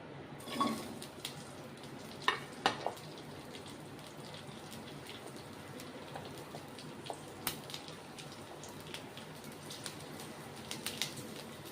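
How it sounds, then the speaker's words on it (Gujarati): Soft steady sizzle of chillies frying in hot oil, with scattered small pops and crackles throughout and no one talking. "તો આપણું તેલ ગરમ થઈ ગયું છે એમાં આપણે મરચાં એડ કરી દઈશું"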